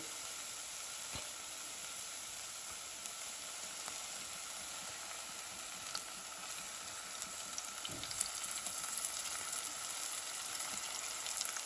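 Onions fry in oil in a pan for an Eritrean vegan shiro, making a soft, even sizzling hiss that runs steadily at a low level, with a few light clicks from the pan.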